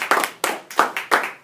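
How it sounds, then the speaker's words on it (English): A small group claps in a classroom after a student's persuasive speech, five crisp bursts of clapping in quick, even succession, close and fairly loud with no talking. "Let's give them a round of applause."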